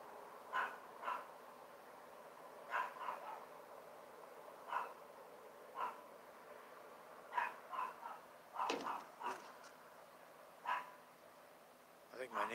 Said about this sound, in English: I think my neighbor's ferocious dog is getting angry.